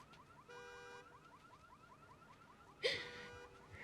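A car alarm goes off outside at night in a zombie-apocalypse drama scene, its warbling electronic tone cycling in a steady pattern at moderate distance, with a sudden louder burst partway through.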